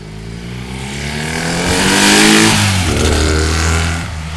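Triumph Bonneville motorcycle with carburation problems being ridden, its engine revving up loudly with rising and falling pitch, strongest midway through, no talk.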